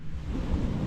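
Strong sea waves on the shore at a beach camp in Borongan, a low continuous rumbling wash, steady and fairly close, with no voices.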